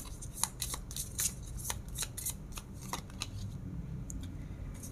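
Tarot cards being shuffled by hand, a steady run of crisp riffling flicks and soft slaps, close and quiet with no talking.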